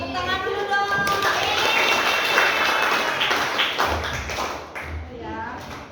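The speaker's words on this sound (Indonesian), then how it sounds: "Tepuk tangan dulu dong." Group of people clapping hands together in a classroom-style session, a lively burst of claps mixed with voices and chatter, fairly close and loud before trailing off.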